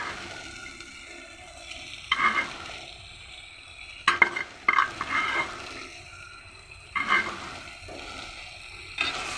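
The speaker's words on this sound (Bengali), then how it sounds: "এটা দিয়ে আমি একটু হালকা নাড়াচাড়া করে একটু কষিয়ে নেব যাতে মশলাটা ডিম ভাজার ভিতরে ঢোকে" Egg stirred and fried with cumin powder and spices in a dal pan, soft sizzling with a few sharp scraping stir strokes in bursts, close and fairly quiet.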